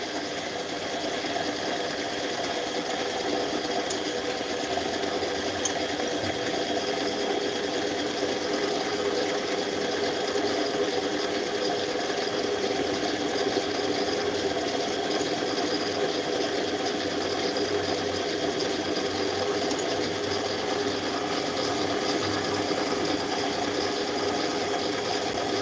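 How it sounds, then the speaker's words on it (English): A lathe runs continuously with a steady mechanical whir and a constant high-pitched motor whine, even and unbroken from start to finish. "Just doing some work on the lathe here."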